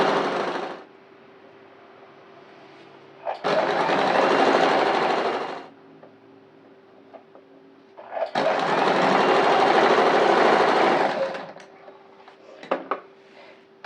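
Sewing machine stitching a folded half-inch hem on a kurti, in two loud bursts of rapid stitching separated by quiet pauses with small handling clicks.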